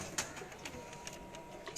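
A pigeon held in someone's hand gives soft, low coos, faint and close, over quiet background rustling.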